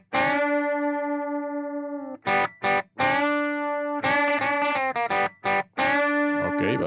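Electric guitar run through an effects chain with distortion and phaser, playing sustained notes and short choppy strummed bursts, loud and close with no talking.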